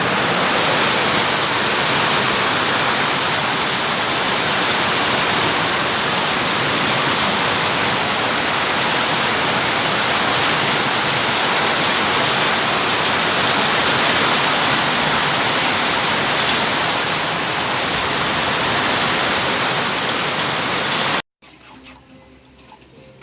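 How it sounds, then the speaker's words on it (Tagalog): Loud, continuous heavy rain at a small chicken farm, a thick roaring wash of water that runs steadily for about twenty seconds before cutting off to near quiet. "Lakas ulan."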